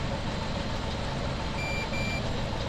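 A combine harvester in Farming Simulator 17 sounds its grain-tank 80% full buzzer, a pair of short repeated beeps over a loud, steady engine and machinery drone.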